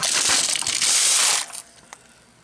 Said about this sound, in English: Let's take them out, place them in the cold water.